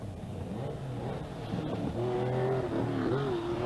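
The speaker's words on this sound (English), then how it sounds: "beautiful Porsche puttering its way all around the stages and giving plenty of excitement and interest" A Porsche rally car on a stage of the 1982 Cork 20 Rally gives a steady engine drone whose pitch climbs as it accelerates, heard from a moderate distance with no talk.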